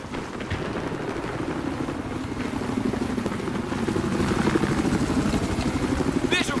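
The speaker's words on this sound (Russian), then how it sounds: "Вижу вражескую вертушку!" An enemy helicopter in Battlefield 4 whirs with a steady, throbbing rotor chop that grows slightly louder and closer over several seconds, alone without talk.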